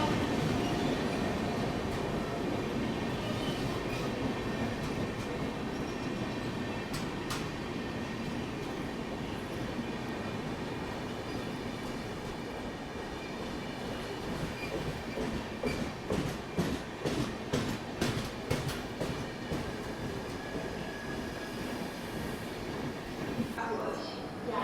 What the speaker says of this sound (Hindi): ये आ गई सिकंदराबाद यानी कि हैदराबाद से शालीमार को आने वाली एक्सप्रेस ट्रेन, वेब 7 लोकोमोटिव के साथ